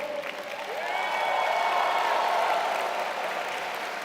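An audience at an MDRT main-platform meeting claps in a steady, sustained burst of applause that swells after the first half second and holds loud and even before easing slightly at the end, with no talk over it.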